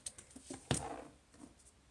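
Scissors cutting open the plastic-wrapped packaging of an album, a few faint, quiet snips and crinkles with one sharper cut near the middle, alone in a quiet room.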